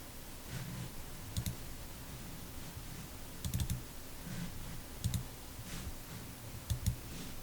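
Faint computer mouse clicks at a desk, a few soft sharp clicks in small pairs spaced a second or two apart over a quiet, hissy background.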